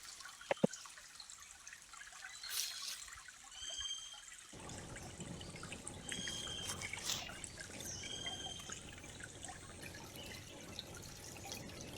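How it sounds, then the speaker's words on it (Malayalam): A small freshwater stream runs through a large sacred grove at Mattannur in Kannur district, with a soft, continuous trickle and scattered drips, faint and fairly distant with no voices. "വേനൽക്കാലത്ത് ശുദ്ധജലത്തിൻ്റെ ഒരു പ്രധാന ഉറവിടമാണ് ഈ തോട്"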